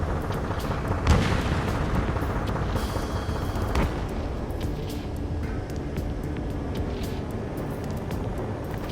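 In Ace Combat 7: Skies Unknown, heavy booms and gunfire rumble over a city under martial law against a constant roar of jet engines, with a couple of sharp, loud blasts standing out early on.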